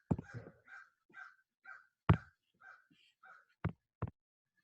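Crows caw again and again outdoors, each hoarse call short and fairly close, in an uneven rhythm broken by a few sharp knock-like thumps.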